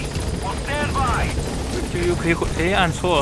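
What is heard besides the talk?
helicopter in the video game Metal Gear Solid V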